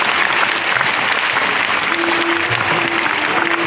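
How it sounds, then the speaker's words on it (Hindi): Loud, dense applause from a large audience at a stadium ceremony in Delhi, welcoming an official. The clapping is sustained throughout and crowd murmur sits underneath. "एक बार जोरदार तालियों से आप स्वागत करें"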